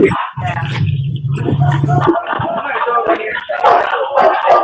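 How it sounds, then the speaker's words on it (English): Dogs barking and yipping up close in short bursts, mixed with wind noise and other busy sound. "I can hear dogs too."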